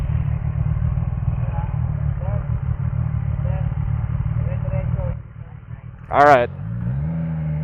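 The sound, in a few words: CFMOTO 675 NK motorcycle engine while riding in the street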